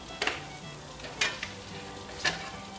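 A fried egg sizzles in a pan while rosti, an alpine potato cake, is cooked, a steady close frying hiss broken by a few brief louder spits and scrapes.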